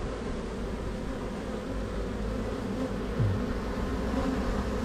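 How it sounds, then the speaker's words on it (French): A dense, steady buzz of honeybees fanning to call a collected swarm hums continuously at close range, unbroken throughout, with no voices. "on voit bien les abeilles qui battent le rappel"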